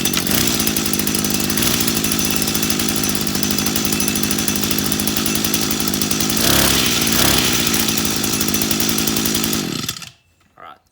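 A chainsaw roars loudly at a steady high rev for about ten seconds, then cuts off abruptly, leaving near silence.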